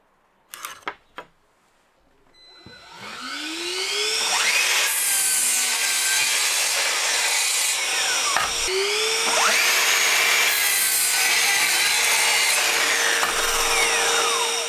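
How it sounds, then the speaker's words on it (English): A miter saw spins up and cuts through wood pieces, a loud whining motor with two long continuous cuts, after a few brief clicks and knocks at the start. "cut four pieces on the miter saw"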